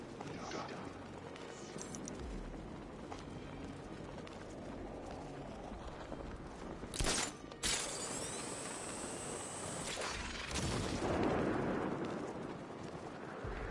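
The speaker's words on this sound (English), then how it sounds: "I sure hope the bat died in that explosion." An explosion in a Batman scene with the Riddler: two sharp broadband bursts crack out mid-scene over a rumbling, clattering background, followed by a longer, rolling surge of noise.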